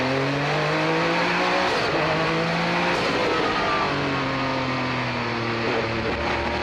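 A 1990 TRUST Porsche 962/C and other race cars at the 2015 Rolex Monterey Motorsports Reunion, engines roaring loudly and continuously, with rising and falling pitch sweeps as cars pass and change gear.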